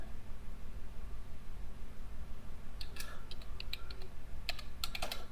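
Computer keyboard typing during work in Maya texture software, a short run of quiet clicking keystrokes starting partway through over a steady background hiss, with a second brief burst near the end.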